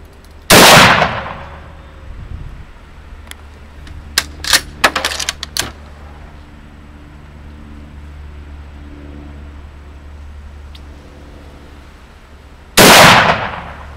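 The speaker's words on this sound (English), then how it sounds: "Here's Nick shooting a 1943 Mosin Nagant" A 1943 Mosin Nagant rifle fires two sharp, loud outdoor shots about twelve seconds apart. Metallic clicks of the bolt being worked and faint ambient noise fill the gap between them.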